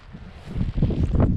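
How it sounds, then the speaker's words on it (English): A short gust of wind buffets an outdoor microphone at a kite-flying field, a rough, low rumbling rush that swells and surges unevenly over about a second and a half. "Good gust of wind."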